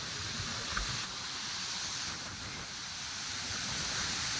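Steady wind rushing across the microphone with the broad hiss of waves breaking at a beach, continuous and fairly loud with no voices.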